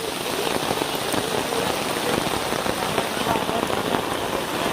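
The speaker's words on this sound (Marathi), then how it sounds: "तर खूपच पाऊस आहे" Heavy rain hammers down steadily on surfaces nearby, a dense, continuous patter with no pauses.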